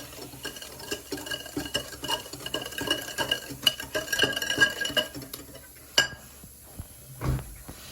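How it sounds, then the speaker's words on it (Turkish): Whisk beating sugar into egg for strawberry cake batter in a bowl: brisk, rhythmic clinking and scraping strokes close up for several seconds, then a sharp knock and a couple of softer bumps as the whisking stops. "Şekerimi ilave ettim ve birazcık çırpıyorum."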